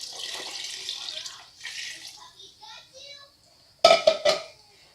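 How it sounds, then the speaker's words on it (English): Four liters of stock pour into a stainless steel pot of thick meat ragu for lasagna soup. A steady splashing stream tapers off, then a few sharp metallic clanks ring out close by. "We're going to add our 4 liters of stock."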